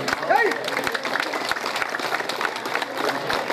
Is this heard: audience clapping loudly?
yes